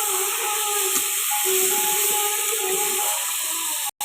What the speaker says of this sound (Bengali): কুমড়োটা দিয়েছি, কুমড়োর আলু দিয়ে ভালো করে ভেজে নেব